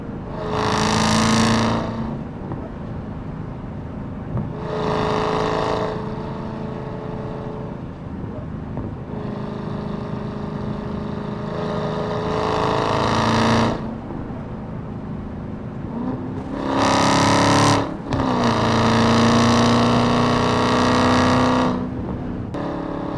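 A 797-horsepower Dodge Hellcat Redeye is driven fast, its engine surging in several loud bursts of acceleration between quieter cruising stretches, heard from inside the car.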